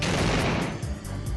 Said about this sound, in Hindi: तगड़ातड़ चारों तरफ गोलियां चल रही